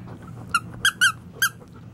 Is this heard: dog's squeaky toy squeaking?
yes